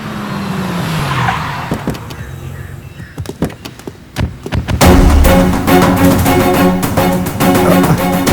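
A car brakes hard and skids to a stop on a road, a rising tire screech following scattered clicks and bumps, then loud sustained noise of the halted vehicle with engine and surroundings.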